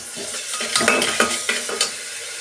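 Garlic frying in a pan with a bright, close sizzle, stirred with several quick metallic scrapes of a spoon in an irregular rhythm over a couple of seconds, no voices.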